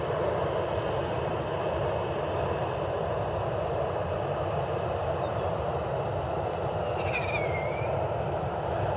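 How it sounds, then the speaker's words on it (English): A Southwest Boeing 737-700 jet passes at an airport with a loud, sustained engine roar and whine that holds steady throughout, with no voices. "One of the last couple of 737-700s still wearing a special livery for Southwest"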